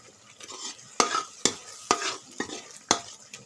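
Melon seeds are stirred and pressed down with the back of a spoon in a pan, giving about six sharp scraping strokes at an irregular beat over a soft background sizzle.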